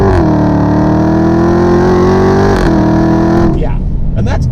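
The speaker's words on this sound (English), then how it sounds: "It's beautiful, massive, vicious resonance that you hear coming from every part of the car" A Dodge Challenger Hellcat engine in default street mode hums loudly and steadily at a sustained rumble, swelling slightly, then easing off near the end.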